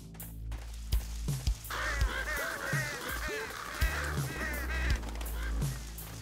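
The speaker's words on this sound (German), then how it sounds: "Und sehr viele Raben ist da." Birds call repeatedly over a low rumbling game soundscape in the horror game Michael Myers Simulator, a run of honking, croaking cries that sound more like geese or ducks than ravens, fairly faint, between heavy thuds.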